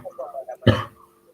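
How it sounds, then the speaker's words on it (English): A single sharp cough bursts out close to the microphone after a few soft murmured sounds, then fades quickly. "for the cough"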